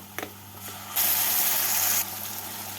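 Water gushes briefly from a tap into a spice bowl as it is rinsed in a home kitchen while a catfish curry cooks, a steady mid-level rush lasting about a second with faint clinks before it.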